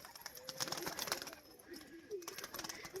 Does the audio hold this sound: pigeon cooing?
yes